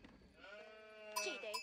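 Sheep in the strategy game Age of Empires IV give a faint, thin bleat, a short wavering call followed by light chiming interface sounds.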